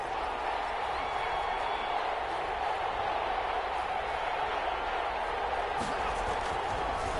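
Crowd noise in an American football video game on PS4 swells before a big third down, a dense, steady roar holding at an even level throughout with no distinct claps.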